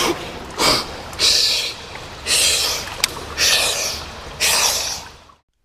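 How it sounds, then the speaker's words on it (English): Forceful recovery breathing by a breath-hold diver at the pool edge after surfacing: five loud, close, rasping breaths in a steady rhythm, each a harsh rush of air separated by brief pauses, fading out at the end. "breathing in a very strong and violent way in order to make my body reoxygenate again"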